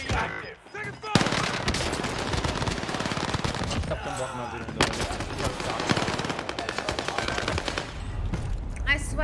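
Rapid bursts of automatic gunfire crackle loudly in the Warzone Pacific battle royale game on Caldera, long rattling volleys with short gaps and scattered single shots, with faint voices in the mix.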